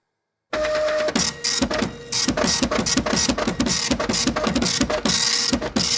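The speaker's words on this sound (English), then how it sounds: "some letters composing words and phrases come out of a kind of printer" A printer runs steadily for several seconds, with rapid rhythmic mechanical clicks and whirring as the print head and paper feed work, loud and close with no voices.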